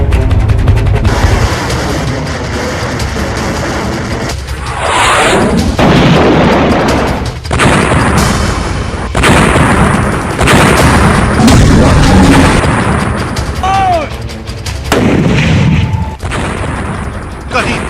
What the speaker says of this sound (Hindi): कहीं तोप के गोलों की आवाज है